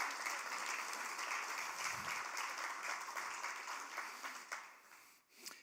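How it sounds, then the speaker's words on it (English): Audience applause at a library foundation event, a steady wash of many hands clapping at moderate distance that thins and fades near the end. "I want to give a big round of applause to our foundation"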